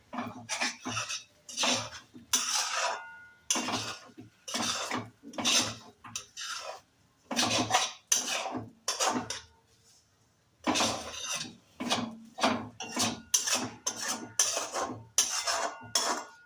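Grated coconut stirred in a pan, with repeated scraping and clinking of a utensil against metal in rhythmic strokes, close and loud, broken by a short pause.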